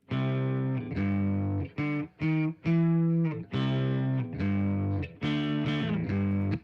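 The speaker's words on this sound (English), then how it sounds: "we're getting that sort of British Marshall kind of sound" Overdriven electric guitar through a British Marshall-style amp preset plays sustained, distorted chords in short phrases with brief gaps, bright and thick, with no talking.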